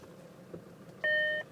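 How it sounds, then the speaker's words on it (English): Inside a 2004 Land Rover Discovery, the diff lock engages with a clear electronic beep, one longer tone followed quickly by a short second one, over faint cabin rumble. "a beep sounds and the diff lock light comes on"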